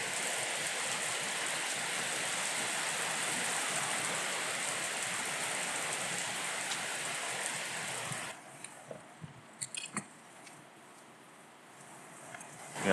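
Heavy rain pours steadily outdoors as a dense, loud hiss for about eight seconds, then drops to a quieter patter with a few scattered close drips and knocks.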